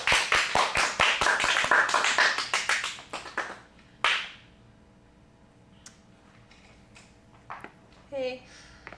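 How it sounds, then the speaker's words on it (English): A small teen acting class applauds its students, with a few seconds of close, brisk clapping by a handful of people that stops abruptly, followed by quiet room tone, a few light taps and a brief voice. "Let's give them a round of applause."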